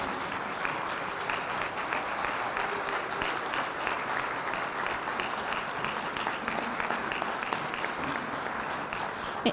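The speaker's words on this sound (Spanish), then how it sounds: "para quien pedimos un caluroso aplauso" Sustained, even applause from an audience at an award ceremony greeting a woman called to the stage, steady and dense throughout with no break.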